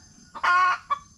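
A chicken gives one short, loud squawking cluck, close by, with softer clucks just before and after, from a farmyard where a dog chases the hens.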